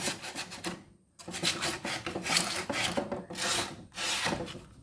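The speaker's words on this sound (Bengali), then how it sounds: "সুন্দরভাবে ঘষে পরিষ্কার করে নেবেন" Wooden parts of a handmade swing being rubbed and sanded by hand, with repeated rasping strokes in uneven bursts and a brief pause near the start. The scraping is close and fairly loud, and no one speaks.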